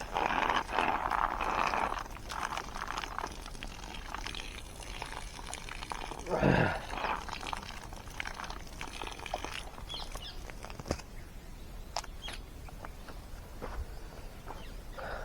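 Water gushes back out of a pipe at a farm well after the power cuts out, a continuous splashing pour with a brief louder surge midway, while voices talk nearby.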